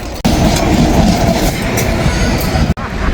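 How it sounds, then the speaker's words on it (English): A train rolls along rail tracks close by, loud and steady with a constant rumble and rattle of wagons, broken by two brief dips in sound. "the train is coming"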